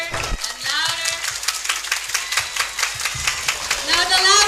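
A group of schoolchildren at a school in Ayanavaram, Chennai claps hands in a quick, irregular patter that builds in intensity, while an adult voice speaks over it.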